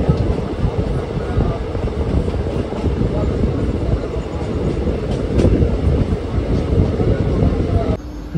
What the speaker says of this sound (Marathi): नॉन स्टॉप आपली ट्रेन कंटिन्यू रन होती आहे.